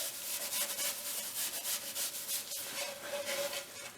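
Dry wood shavings wiping excess oil off a natural-edge cedar bowl, a close, quiet continuous rubbing and swishing in uneven strokes, with no talking.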